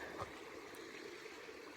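A creek trickling beside the Pacific Crest Trail in the Sierra, a soft, steady flow of running water heard close by and alone for a brief moment, with a faint gurgle near the start.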